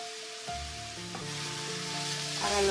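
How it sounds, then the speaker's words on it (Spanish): Potatoes frying in a skillet, stirred now and then with a spoon, give a steady close sizzle with soft scraping and clinks of the spoon against the pan. "Ahora lo vamos a remover de vez en cuando"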